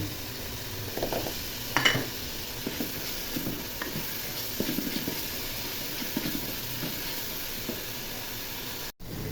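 Garlic sizzling in hot oil in a pan for a braised meat curry, a soft continuous hiss with occasional stirring scrapes and small crackles, close and fairly quiet with no talk.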